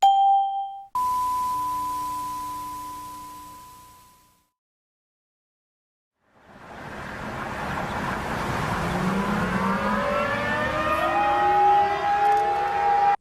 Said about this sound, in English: Why the f are sirens sounding off 3 hours later?